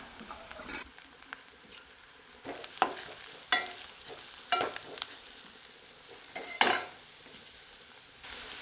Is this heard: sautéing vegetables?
yes